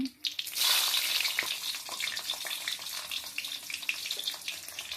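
Dry red chillies and garlic hit hot oil in a pan, bursting into a loud, crackling sizzle that stays steady with scattered pops and spits throughout.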